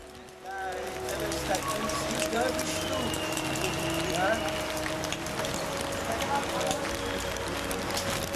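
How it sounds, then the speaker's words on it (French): Steady rain falls during a visit to a Himalayan shrine in Himachal Pradesh, a dense continuous hiss close by with faint tonal sounds drifting through. "Pour nous, c'est un vrai baptême sous la pluie."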